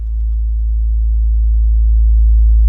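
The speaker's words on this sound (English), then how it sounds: "that's how a sine wave from twin waves sounds, like dry, no processing" A pure, low synthesizer sine tone from a Twin Waves module holds steadily and loud, smooth and unprocessed, with no other sounds.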